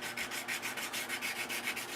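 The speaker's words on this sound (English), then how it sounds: "get a little bit of sanding paper and just go with the flow of the" Sandpaper rubs back and forth along the grain of a wooden piece in steady, rhythmic scratchy strokes, about four per second, close and continuous with no voices.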